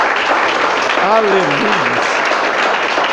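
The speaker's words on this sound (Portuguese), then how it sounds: "Pode aplaudir o Senhor" Congregation applauding during a church service, steady clapping throughout with a voice calling out over it and faint sung or spoken praise in the middle.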